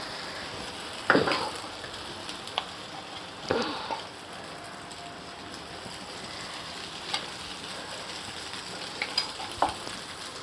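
A beaten egg omelette fries in a hot pan with a soft, continuous sizzle, broken by a few sharp scraping clatters from a utensil against the pan.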